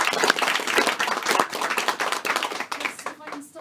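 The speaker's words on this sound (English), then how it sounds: "So a big round of applause." Dense, close audience clapping rising into a brief burst of applause, fading toward the end, recorded at a television interview with cast and guests.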